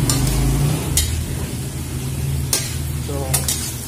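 Fried pork chop being mixed with sweet chili sauce in a pan, producing a loud, close sizzle broken by a few sharp spatula scrapes and clinks against the pan, with no voice.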